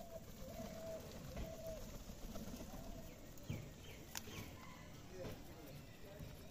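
Pigeons coo at a Rajshahi pigeon farm keeping Giribaz and racing pigeons. The cooing is soft and blends into a steady, busy flock murmur, with faint flutters and voices in the background.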